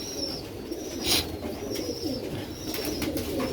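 Sialkoti pearl pigeons coo in a coop, with soft repeated cooing and a few brief wing or chirp sounds over steady low background noise.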